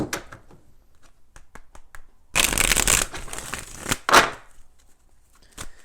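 Tarot cards are shuffled up close: scattered soft taps, then a loud riffling burst lasting about two seconds, a short final riffle, and a few more taps.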